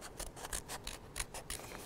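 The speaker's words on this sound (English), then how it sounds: "When you work out the curved lines, you have to control your scissors very carefully." Scissors snip paper in a quick rhythmic series of short, close, quiet cuts while following curved lines for a Chinese paper-cut ox design.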